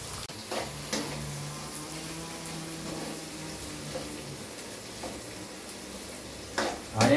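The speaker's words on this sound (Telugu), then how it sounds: "గోల్డెన్ బ్రౌన్ కలర్ వచ్చేదాకా ఫ్రై చేసుకోవాలి." Onions for chicken biryani fry in a pan with a steady soft sizzle, broken by a few light scrapes and taps of a spatula, alone with no talking.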